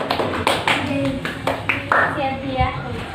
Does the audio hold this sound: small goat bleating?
no